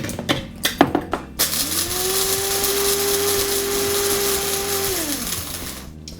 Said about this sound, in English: And I also have an electric coffee grinder.